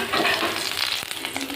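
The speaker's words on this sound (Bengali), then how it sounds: "তেলের উপর দিয়ে দেবো কটা গোটা জিরে" Whole cumin seeds sizzling in hot oil in a kadai, a continuous bright crackling hiss with a faint tap or two, moderately quiet and without talk.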